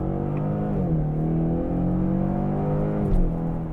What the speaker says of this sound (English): It's able to find those points where you would blip down